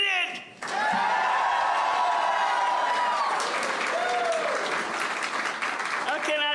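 A large crowd at an Alabama election-night victory celebration for Governor Kay Ivey bursts into loud, sustained applause and cheering that fills the whole stretch, with voices shouting through the dense clapping.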